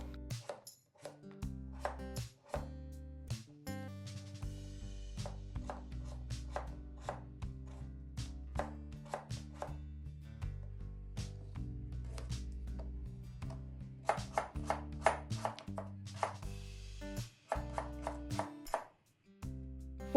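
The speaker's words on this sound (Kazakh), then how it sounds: "Картопты видеода көрсетілгендей екіге бөліп, осындай жұқа қылып турап шығамыз." A knife slices halved potatoes thinly on a board for an oven-baked dinner, making steady, close, crisp chopping taps in a quick, regular rhythm with brief pauses.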